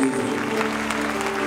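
A church congregation claps together in a dense, continuous round of applause, with a musical tone and faint voices underneath.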